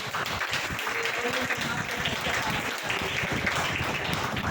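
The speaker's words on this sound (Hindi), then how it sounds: "परमेश्वर का ताली देकर धन्यवाद दें।" Congregation clapping in thanks during a Hindi and Bengali church sermon, dense continuous applause with voices mixed in underneath.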